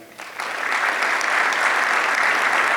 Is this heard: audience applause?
yes